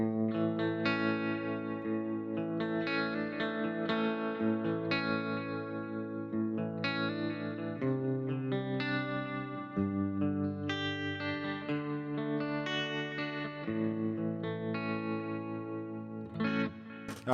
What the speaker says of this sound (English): And we'll turn on the reverb.